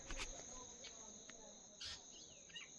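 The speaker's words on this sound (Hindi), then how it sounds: "सुकून, सिर्फ चिड़ियाओं की आवाज़ है।" Small birds chirping and calling outdoors in a quiet village, with a steady high insect-like trill running throughout and a few brighter chirps standing out, fairly faint and distant with no talking.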